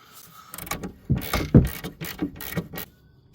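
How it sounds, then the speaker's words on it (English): An impact driver runs out a stuck rear caliper bolt on a 2006–2010 Volkswagen Jetta, Golf or Rabbit, giving a series of rapid hammering bursts and mechanical rattles close by, with no talk. "if you have an impact driver, is just keep running it out and the bolt will eventually work its way through"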